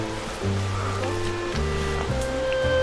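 A river current rushes in a ravine below a mountain trail on the Mount Napulauan traverse, a steady rushing wash that continues under a voice and other tonal sounds.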